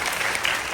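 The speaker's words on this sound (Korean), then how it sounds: "감독님께도 박수 한번 더 부탁드리겠습니다" A film festival audience gives dense, continuous applause for the director of the Korean film Mogadishu at a post-screening talk in Bucheon, loud and sustained throughout.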